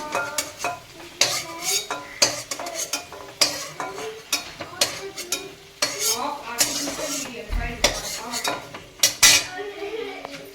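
Metal utensils scrape and clatter against a pan as fried salted chicken is lifted out, with steady clinks and knocks over a faint background sizzle, close and busy throughout.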